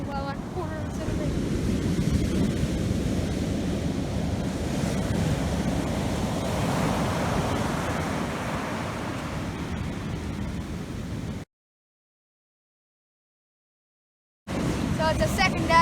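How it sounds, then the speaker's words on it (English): Rough winter surf at Golden Beach in East Gippsland pounds steadily, a broad continuous roar mixed with wind buffeting the microphone, before a sudden few seconds of silence and then the roar returns. "The waves are a bit rough, but we're still going to give it a go."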